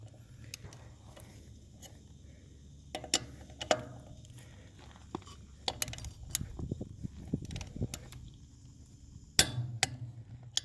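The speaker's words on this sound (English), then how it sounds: "So if you hear that click, that means we reached 124." A torque wrench clicks and ratchets while bolts are tightened on a tiny house trailer, with sharp scattered clicks and mechanical clatter close by over a low background hum.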